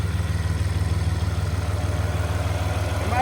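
A 3.0-liter V6 diesel engine idling nearby, a steady low rhythmic chug with even pulsing throughout, no voices over it.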